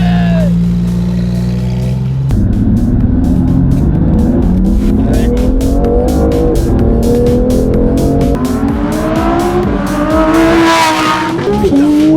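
A race car roars past at high revs on the Le Vigeant circuit, engine pitch rising and falling through gear changes, loud and close, with a brief tire squeal.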